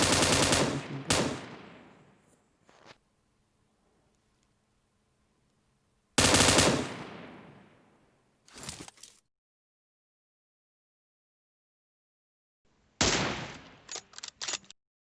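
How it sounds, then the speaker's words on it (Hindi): Light machine gun fire in PUBG Mobile, loud close bursts with sharp attacks and decaying tails, separated by silences, ending in a rapid string of shots. "लास्ट किल इससे आप कर लें लाइट मशीन गन से"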